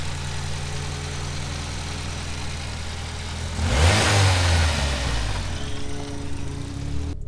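A Nissan B13 Sentra with a 1.6-litre engine and a freshly installed clutch idles steadily, then revs up in one rising, loud sweep around the middle before settling back to a lumpy idle. Nobody talks.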